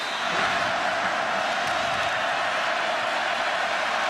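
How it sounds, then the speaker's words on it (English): Raucous football crowd filling Ben Hill Griffin Stadium, a dense, steady roar of cheering and shouting that holds evenly throughout with no single voice standing out. "Part of this very raucous crowd here at Ben Hill Griffith Stadium."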